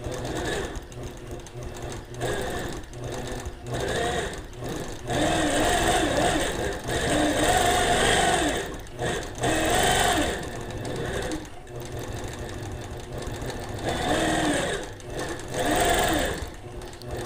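A domestic sewing machine runs in bursts while free-motion quilting a line on a mini quilt, its fast motor whir and needle rattle starting and stopping in several close, loud runs with short pauses between.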